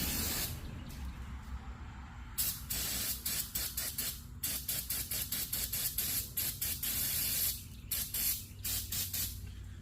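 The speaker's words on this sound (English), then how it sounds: "Throw a little carb cleaner on there." Carburetor cleaner sprays onto engine parts in bursts of hissing aerosol, some long and steady, others short and rapid, close and loud with a low hum underneath.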